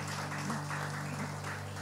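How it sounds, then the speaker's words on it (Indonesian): Applause for the worship team and musicians during a Sunday church service, a steady wash of clapping from a crowd over sustained keyboard-like tones, fairly quiet and continuous. "Tepuk tangan untuk para worshiper, untuk musician"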